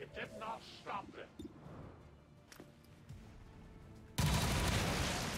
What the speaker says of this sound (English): Just go ahead and take shots at the turret.